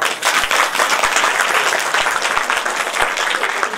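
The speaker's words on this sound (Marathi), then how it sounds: "यांच्याकरता टाळ्या वाजवा" An audience at a Ganesh Jayanti kirtan breaks into dense, sustained applause, many hands clapping loudly and continuously from start to finish.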